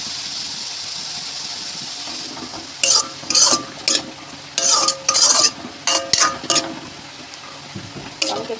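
Capsicum and carrot frying in a pan, a soft background sizzle broken by bursts of spatula stirring and scraping against the metal, coming in uneven clusters.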